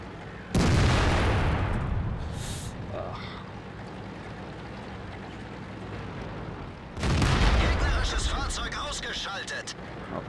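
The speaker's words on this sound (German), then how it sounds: "Schießt die andere auf mich." Tank cannon fire in World of Tanks: two heavy booming blasts roughly six seconds apart, each with a long rumbling decay, under a voice speaking German.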